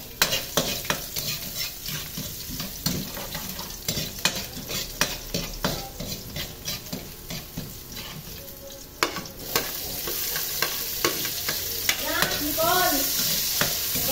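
Pork and eggplant browning in a frying pan for pork binagoongan, with a steady loud sizzle and frequent stirring and utensil scrapes against the pan throughout.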